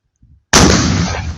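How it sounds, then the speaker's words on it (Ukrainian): After a brief faint thud, one loud, sharp gunshot cracks close by and its boom rolls on and decays. "Постріл!"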